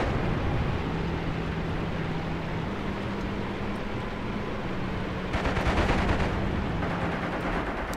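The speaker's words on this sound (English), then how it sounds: "guy is shooting his machine gun straight into Waters' tank" Machine gun fire in the WWII tank game Tank Warfare: Tunisia 1943, aimed at a tank, rattling as a steady wash of rapid shots with a louder burst near the end, mixed with a low engine drone.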